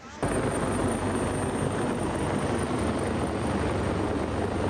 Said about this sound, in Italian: abbiamo visto l'elicottero sorvolare la zona